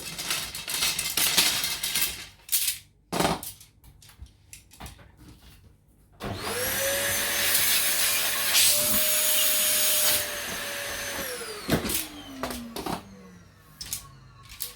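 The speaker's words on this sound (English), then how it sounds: "let's give them a quick vacuum." A small vacuum cleaner cleaning freshly cut carbon arrow shafts whirs on with a rising hum, runs steadily for a few seconds, then winds down, with scraping and clatter around it.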